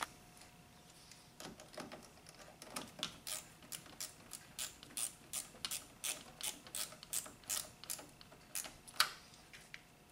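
A ratchet tightens a battery cable terminal on a Honda Accord with a 2.4L engine, giving a quick series of crisp, close clicks in short rhythmic bursts against a quiet background.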